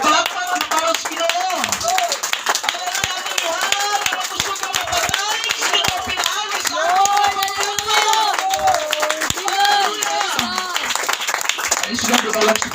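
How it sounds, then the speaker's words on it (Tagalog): A church congregation claps during an anniversary service, rhythmic hand clapping running continuously beneath music and voices that carry through the whole stretch. "Palakpakan nato ang pulong sa Ginoo mga igsoon."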